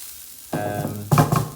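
Food hits a hot frying pan of butter with a sudden loud sizzle, followed by a second burst of crackling frying as it's stirred, close and alone.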